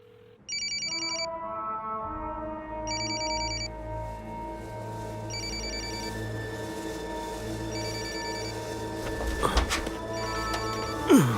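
A telephone rings in repeated bursts of bright trilling tones, with a steady tonal hum and some low rumbling underneath.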